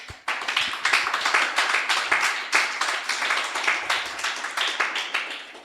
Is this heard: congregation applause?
yes